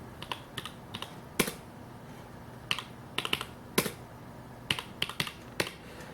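Keys clacking on a computer keyboard of an aging machine running Linux, set to large font for word processing, in irregular bursts of sharp clicks with pauses between, fairly close and quiet, no talking.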